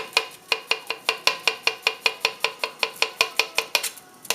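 Knife finely slicing mushrooms on a board: a fast steady run of about twenty crisp, evenly spaced chops, close and clear, with no talking.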